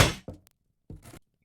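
Weapon strikes landing on an enemy in the VR combat game Blade and Sorcery: two or three short, dull thunks spaced apart, the first loud and close, followed by quieter knocking impacts.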